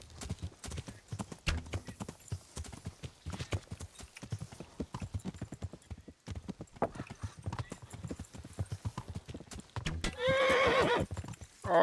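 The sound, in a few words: horse galloping and neighing in a video game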